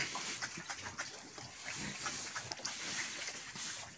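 Pigs on a Large White Yorkshire pig farm in Kalimpong grunt in a steady, close, moderately loud stream of short rough snorts, with continuous pen noise and no talking.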